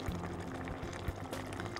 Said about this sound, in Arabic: هاخد مية، هحط عليها المية بتاعتي